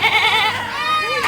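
A goat gives one loud, close, wavering bleat that fades within about a second, recorded on an outing in Yercaud, Tamil Nadu.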